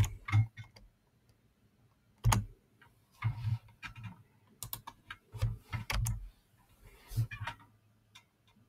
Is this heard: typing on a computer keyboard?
yes